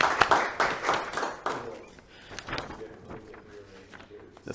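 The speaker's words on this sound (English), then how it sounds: "can we just give a real quick round of applause for Chuck for helping me out with the slides and things like that?" Applause from an audience at a talk on writing haiku, a short burst of clapping that fades after about two seconds and gives way to quieter room noise and footsteps.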